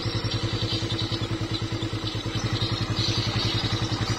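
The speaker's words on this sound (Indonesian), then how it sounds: "Bentar, matikan motor dulu." A motorcycle engine idles close by in a palm oil plantation, a steady loud rhythmic putter with a clattering pulse that holds throughout.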